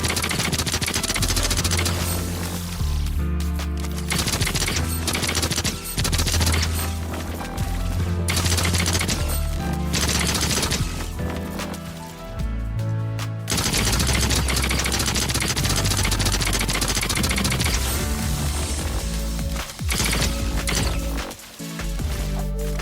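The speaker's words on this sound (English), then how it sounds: "This weapon shoots the projectile of True Ice grenade." A True Ice pistol fires in Fortnite, with dense rapid bursts of shots and crashing impacts that run almost continuously, loud and close.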